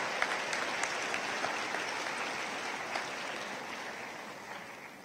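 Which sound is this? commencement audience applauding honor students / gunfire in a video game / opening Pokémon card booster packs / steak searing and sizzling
commencement audience applauding honor students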